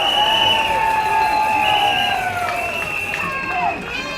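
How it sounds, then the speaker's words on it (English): Outdoor rally crowd in Trafalgar Square, London, cheers and shouts as a speaker is brought on, with sustained whistles and raised voices over a broad crowd roar that eases slightly toward the end. "Big round of applause for Shaun Bailey."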